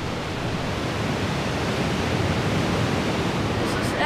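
Winter surf on the North Sea coast of Sylt rumbles in a continuous, fairly loud wash of breaking waves, with a light offshore wind blowing and no distinct individual crashes.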